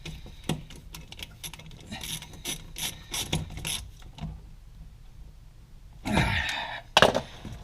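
A screwdriver tightens a terminal screw onto the wire of a worn-out 120 volt residential outlet, making close bursts of quick ratcheting clicks, a quiet pause, then a few final sharper turns.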